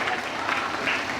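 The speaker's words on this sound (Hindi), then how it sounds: "जोरदार तालियों के साथ अवनीश का स्वागत करें।" Audience applause at a Hindi comedy poetry gathering (hasya kavi sammelan): a steady, dense wash of clapping from a crowd, continuous through the brief moment with no clear gaps.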